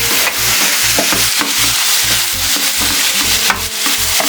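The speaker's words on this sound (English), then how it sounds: "you need now to do a little bit of mixing so that it can be able to mix together with the tomato and the onion" Onions and tomato fry in a pan as a utensil stirs them, giving a loud, close sizzle with regular scraping strokes about twice a second and no talking.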